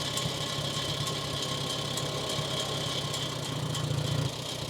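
A Farmall 140 tractor engine idles steadily and nearby, with a continuous low rumble and a faint rhythmic knock running unbroken throughout, with no talking.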